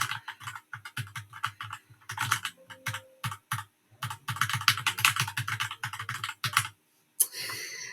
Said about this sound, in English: it's like a tactile keyboard, and I love the sound